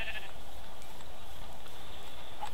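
Sheep bleating in the Minecraft video game, a brief soft bleat over a steady low background hum, with no talk heard.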